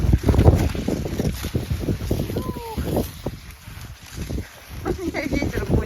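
Gusty wind buffets the microphone with low rumbling bursts, rising and falling, while a voice talks intermittently over it, on a March ski trail in Ukhta, Komi Republic.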